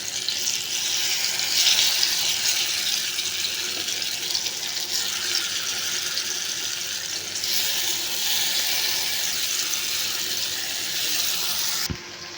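Plantain slices fry on a dosa pan, a steady, dense hiss of sizzling oil that stays even and fairly loud, with a soft clatter near the end.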